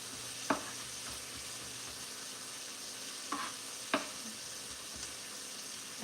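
Minced garlic sautéing with onions in a pan for chicken fennel soup, a steady soft sizzle running throughout with a few sharp utensil clicks and scrapes, no talking.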